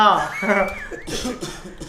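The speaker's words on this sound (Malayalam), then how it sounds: "ചുമ കൂടുന്നുണ്ടല്ലോ" A voice gives a few rough, throaty coughs between bursts of speech, close and fairly loud.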